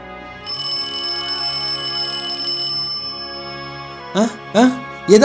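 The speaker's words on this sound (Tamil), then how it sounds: "ஏதோ ஃபோன் ரிங் ஆகுதுக்கா" A phone ringtone plays as a sound effect within a narrated Tamil story, a steady electronic tone held for a few seconds before a voice cuts in with short spoken phrases.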